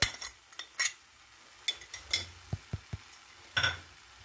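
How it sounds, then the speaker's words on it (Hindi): Mashed potatoes being stirred into a pav bhaji masala and tomato mixture for a spicy veg burger, heard as scattered spoon clinks and scrapes against the pan with a few sharper taps, close and moderately loud. "बस इसको भी अच्छे से मिक्स कर लीजिए।"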